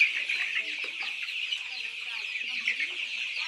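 Chickens clucking at a poultry farm, a dense, continuous chorus of many birds at close range with overlapping clucks and chatter and no clear pauses.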